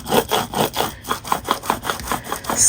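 Hand rubbing transfer tape over a vinyl decal, a run of about a dozen quick, even back-and-forth scrubbing strokes, close and fairly loud, with no talking.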